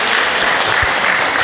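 Audience applause at a health seminar in Indonesia, a brief dense burst of clapping from a sizeable crowd, loud and even throughout, with no talking over it.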